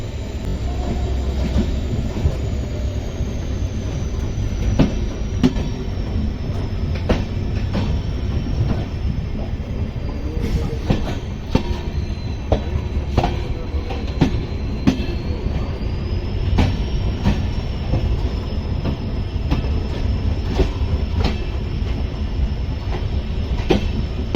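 Panchaganga Express, train 16595, running steadily along the tracks, a loud sustained rumble heard from inside with repeated clickety-clack wheel beats and a faint high squeal of wheels throughout.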